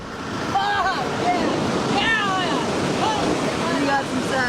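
Huge ocean waves break along the California coast in a continuous loud roar of surf and wind, with a few faint high tones threaded through it.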